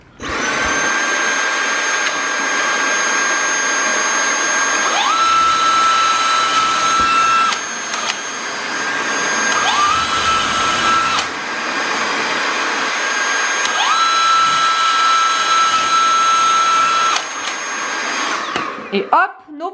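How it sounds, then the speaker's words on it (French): Dyson vacuum cleaner sucking up leftover dust during final home renovation finishing work, a loud, steady whine running for the whole stretch, with its pitch rising and changing several times as the nozzle moves across surfaces. "you prends le Dyson ou un autre aspirateur, hein, ça marche aussi."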